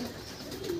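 A single male Andhra Kalchera pigeon, a high-quality loft bird, coos softly and steadily close by, with no talking.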